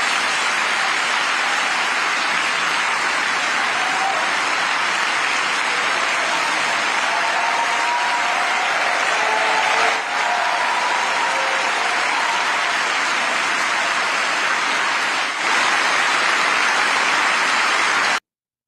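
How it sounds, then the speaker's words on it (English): A large audience applauds at the close of a speech, a sustained wash of clapping that holds steady and loud for a long stretch, with a few faint voices buried inside the roar. "the last 20 seconds, which was applause"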